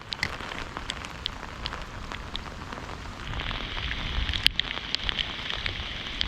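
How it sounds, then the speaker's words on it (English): Torrential cold winter downpour during pickerel fishing, a dense, steady hiss of rain pattering close on surfaces with scattered sharper drops, growing slightly louder and brighter partway through. "Now it's torrential downpours."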